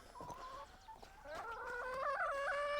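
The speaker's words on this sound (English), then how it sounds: "You can see here, that's our chickens," Chickens in a deep-litter pen clucking and calling close by, with several overlapping birds rising into a sustained, throaty squawking chorus.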